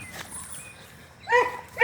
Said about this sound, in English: This is Piggy. He's my guard dog.